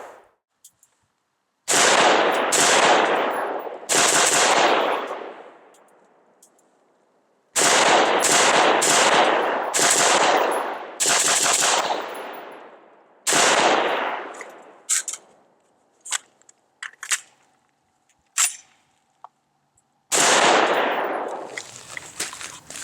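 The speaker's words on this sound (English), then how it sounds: "gun feels great to shoot" An FN SCAR 16 (SCAR-L) rifle fires outdoors in several rapid strings of loud, sharp shots, each burst ringing out with a rolling echo, followed by a few scattered single shots and a final burst.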